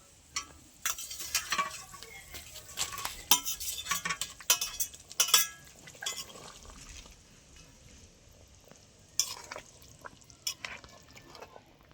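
Fried kalbos fish pieces slide into boiling gravy in a pan and get stirred, with scraping spoon strokes and bursts of bubbling sizzle, close and moderately loud with no talk.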